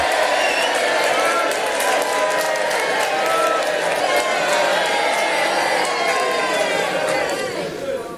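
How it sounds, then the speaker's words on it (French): Lively crowd noise with clapping and cheering from a French radio quiz audience, loud and continuous throughout, with voices chattering and whooping over the applause. "allez, on applaudit."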